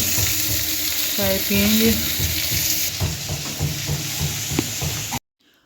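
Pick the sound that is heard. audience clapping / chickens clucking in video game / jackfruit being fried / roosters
jackfruit being fried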